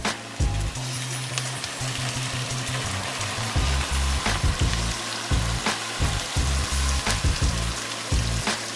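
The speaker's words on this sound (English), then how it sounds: "Chicken mixture to the frying onions, and that's going to cook for a couple minutes." Loud, steady sizzling of chicken and onions frying in a pan for butter chicken, a dense crackle and hiss with bubbling pops throughout and no voices.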